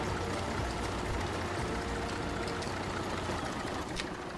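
An IMT tractor engine idles in Farming Simulator 17, a steady low rumbling chug that stays constant at moderate volume with no voices.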